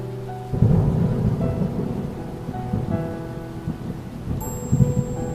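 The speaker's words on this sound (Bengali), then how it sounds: "এরপরেও বৃষ্টি থামে না।" Rain and thunder from a Bengali horror cartoon: a deep thunder rumble breaks in early over steady pouring rain, with faint sustained tones beneath and a second swell of rumble near the end.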